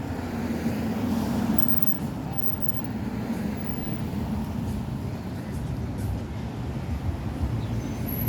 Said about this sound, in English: See how all the traffic just bottlenecks up there?